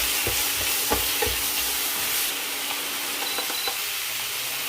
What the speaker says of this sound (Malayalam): ഇനി തീ ഒന്ന് കുറച്ച് വെച്ചിട്ട് അതിലേക്ക് മാരിനേറ്റ് ചെയ്ത് വെച്ചിരിക്കുന്ന ചെമ്മീൻ ചേർക്കാം.